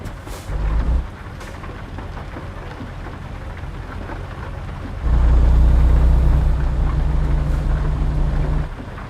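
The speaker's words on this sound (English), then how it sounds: "Ooh, lightning." Rain hisses steadily during a thunderstorm in American Truck Simulator, with two deep, loud thunder rumbles, a short one near the start and a longer sustained roll in the second half, and no talking.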